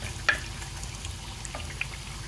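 Cumin seeds, chopped onion and green chillies fry in hot oil in a pan, making a soft continuous sizzle with a couple of small clicks from a spoon.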